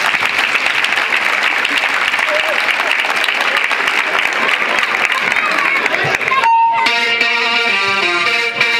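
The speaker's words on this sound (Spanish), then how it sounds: "Un aplauso, por favor." A crowd applauds a rhythmic gymnastics ball group at an exhibition, loud and continuous clapping with voices mixed in, before music with a sustained tonal note takes over near the end.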